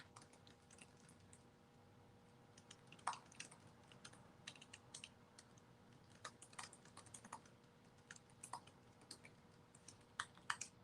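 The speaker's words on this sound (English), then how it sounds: "let me finish typing here." Steady keyboard typing with irregular clicks and occasional louder key strikes, continuing throughout over a faint background hum.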